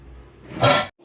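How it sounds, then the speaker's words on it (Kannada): Water poured into a pot of mutton being cooked, a short loud splashing gush lasting under half a second after quiet kitchen background, then stopping sharply. "ಇದಕ್ಕೆ ಈಗ ಬೇಯಲಿಕ್ಕೆ ನೀರು ಹಾಕಿಕೊಳ್ಳಿ."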